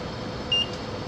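A single short, clear electronic beep from a car air-conditioning sanitizing machine, high-pitched and brief, over a faint steady background hum.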